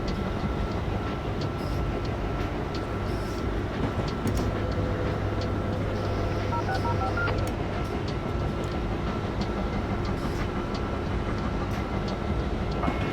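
Train running in the Train Sim World 2022 simulator, a steady continuous rumble and rolling rail noise with a low engine drone throughout, no talking.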